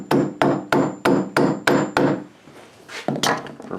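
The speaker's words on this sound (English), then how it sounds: "Let me grab my hammer." Hammer tapping a wooden part into a joiner's workbench: about seven sharp, evenly spaced blows, then a short pause and two more strikes, close and loud with no talk.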